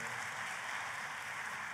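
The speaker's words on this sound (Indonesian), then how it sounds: "Tepuk tangannya yang paling meriah buat Tuhan kita." Church congregation applauding together, a dense steady patter of many hands clapping, distant and soft, with no voices over it.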